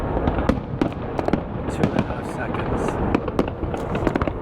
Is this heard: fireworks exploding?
yes